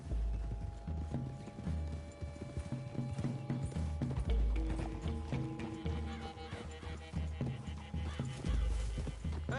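Horse hooves clip-clop steadily in a Western video game as riders move through trees toward a clearing, a continuous rhythmic trotting with occasional whinnies layered over music and ambient game sound.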